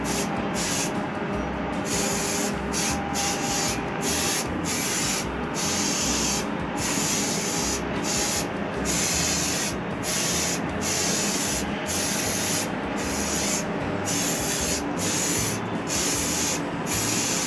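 Direct-to-rust spray paint hisses steadily onto Vespa scooter wheels, a continuous close-up spray broken by short, regular pauses as the nozzle is released and pressed again.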